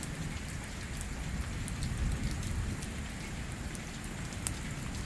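Heavy pre-monsoon rain in the Pothwar region falls steadily in a dense, even hiss. Scattered louder drops tick through it, and a low rumble sits underneath. No voices are heard.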